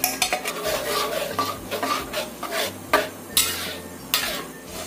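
A utensil stirs ground chili paste thickening in hot oil in a pan, giving repeated close scraping and clinking strokes over a soft background sizzle.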